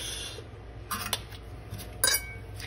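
A utensil stirs kinilaw with kalamansi in a bowl, giving a few light clinks and scrapes in two short bursts over a quiet background.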